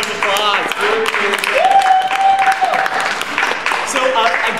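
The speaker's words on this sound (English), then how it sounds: "let's give them a round of applause" Applause rises from a small audience after an improv theater scene, with scattered claps over a sustained tone and some overlapping talk.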